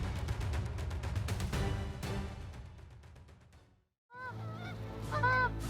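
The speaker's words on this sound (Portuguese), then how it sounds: "Outra espécie animal invasora e prejudicial na América do Norte é o ganso do Canadá." A Canada goose honks in a string of loud, nasal calls, first in a busy overlapping run, then after a brief silence in a few clear, close honks.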